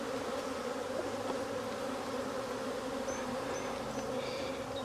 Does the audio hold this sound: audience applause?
no